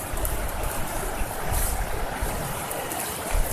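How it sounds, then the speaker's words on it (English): A mountain stream feeding rice paddies in a forest reserve rushes as a dense, continuous broadband wash, fairly loud and close, with a rough low rumble that may include wind, and no voices. "Down there is the water source."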